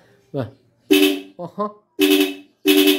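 A Rusi SSX 150 motorcycle horn honks in short, loud bursts, three blasts broken by brief pauses, with a man's speech squeezed into the gaps.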